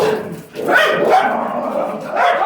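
Pet dogs bark in a rapid, loud cluster of overlapping barks and yips nearby, with several bursts through the clip.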